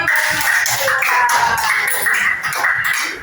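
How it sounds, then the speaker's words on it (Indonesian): A classroom of students clapping hands together at a teacher's prompt, a brief dense patter of claps with some tapping, fairly loud and close for about three seconds. "Tepuk tangan semuanya"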